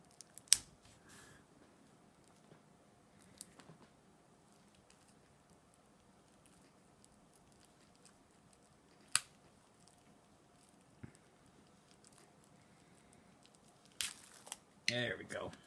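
Plastic packaging on a board game box is torn and crinkled open in a few sharp, scattered bursts, with sporadic crackles and rustles separated by near-silence and a louder flurry near the end.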